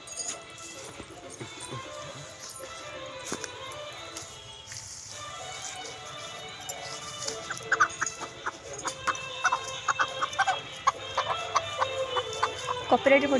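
Chickens clucking in an Odia village, with scattered short clucks growing busier and louder toward the end over a faint outdoor background.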